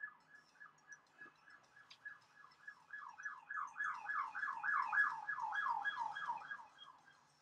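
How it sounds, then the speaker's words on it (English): A siren passes along a street, a repeating rising-falling wail that swells from faint to louder and then eases off, heard clearly over an otherwise quiet room. "You get a lot of sirens on this street."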